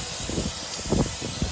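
PB Blaster penetrating oil sprayed around a wheel bearing on a 2013 Ford Taurus, a close, steady hiss with a few short bursts of spray.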